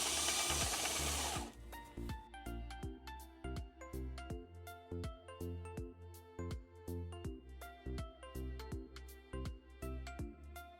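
A lathe turning a drill bit into a PVC pipe piece held in a worm chuck: a burst of harsh cutting noise at first, then a steady run of rhythmic mechanical knocking and whirring, close and moderately loud.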